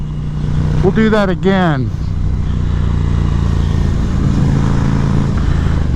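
A Ducati Scrambler motorcycle fitted with a Competition Werkes slip-on exhaust gives two quick rising-and-falling revs, then settles into a steady, loud engine drone under a rider's voice.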